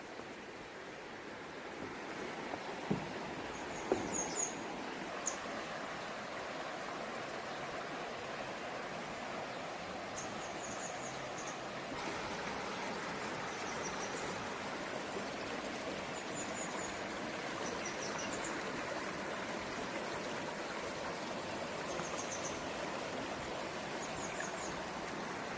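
Water flows in the Myeongji Valley stream, a steady broad rush and splash that holds evenly throughout at moderate loudness, with faint birdsong above it and no voices.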